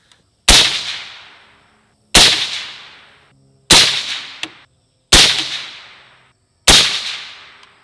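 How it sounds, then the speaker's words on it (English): Five suppressed shots from an MK12 rifle with a LaRue match grade upper, fired outdoors at a target about a second and a half apart, each a sharp loud crack with a short decaying tail. "All right, we're gonna be shooting top right circle."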